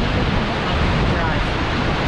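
Class 6 rapids on the Niagara River rush far below the Aero Car, a dense, steady wash of roaring water with a wind-like hiss, loud and constant.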